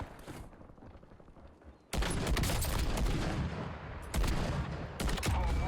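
Gunfire on Rebirth Island in Call of Duty Warzone: sharp shots at first, then dense sustained automatic bursts that grow louder and closer.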